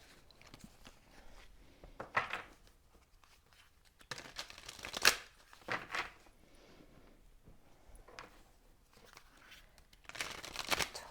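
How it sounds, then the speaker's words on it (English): Tarot card decks are shuffled close by in irregular bursts of riffling, flicking and soft slapping, separated by quieter pauses. "I'm just going to shuffle a little bit more"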